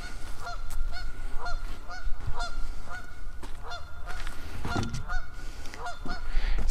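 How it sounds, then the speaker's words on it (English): Geese honk repeatedly and loudly nearby, calling in a steady rhythm of overlapping honks over a low outdoor rumble in an orchard setting. "That's why the geese are making the noise up there."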